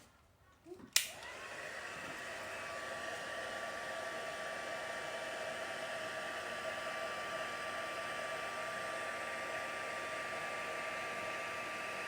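A heat tool switches on with a click and then blows hot air onto a paper card in a steady, even whoosh that stays close and continuous.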